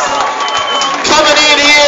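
Crowd applause and cheering for a boxer from Cass County at a local boxing event, a dense, steady wash of clapping and voices that swells louder in the second half.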